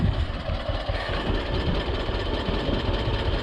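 A John Deere 50 tractor engine runs steadily up close, its loud low chugging throb constant throughout with a rough, knocking vibration and no pauses.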